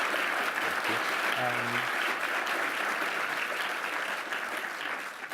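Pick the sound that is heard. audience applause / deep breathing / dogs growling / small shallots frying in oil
audience applause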